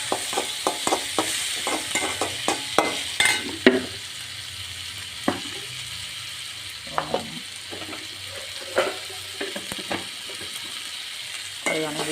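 Tomatoes frying with salt in a pan for a lentil-dumpling curry: a soft continuous sizzle under repeated sharp spatula scrapes and knocks against the pan, close and fairly quiet, no talking.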